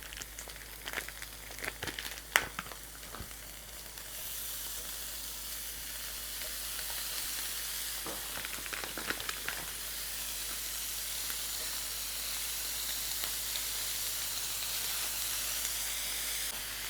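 A pound of ground hamburger meat sizzles and fries in a pan, a loud continuous hiss that swells after a few opening clatters and holds steady close by, with no talking.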